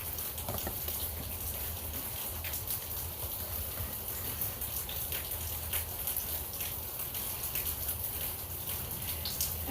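Steady rainfall patters on surfaces with scattered drops, a continuous broadband wash holding even in level from start to end, with no voices.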